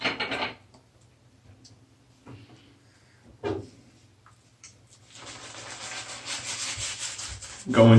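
Shaving lather, Stirling Deep Blue Sea soap, rubbed into the face by hand, giving a close, steady wet rubbing sound for several seconds after a few brief earlier strokes.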